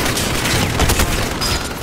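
Rapid rifle gunfire from an AK in Call of Duty: Modern Warfare crackles loud and close, with overlapping bursts and no clear pauses.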